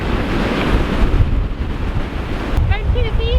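Stormy wind buffeting the microphone over rough sea surf breaking on a beach at Buckhaven, Fife, a loud continuous roar with a brief high whistling tone near the end.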